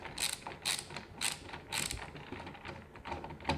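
A Milwaukee 9-in-1 ratcheting screwdriver clicks in quick rattling bursts, about two per second, close and fairly quiet, with no voices.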